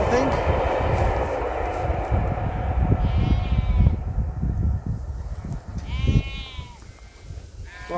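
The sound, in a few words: sheep bleating near steam train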